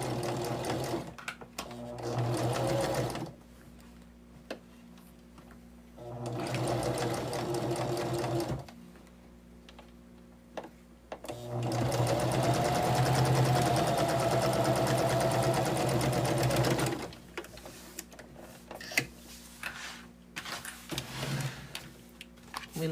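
A sewing machine stitching quilt patches runs in several steady, buzzing bursts of a few seconds each, separated by quiet pauses, close and clear with no talk.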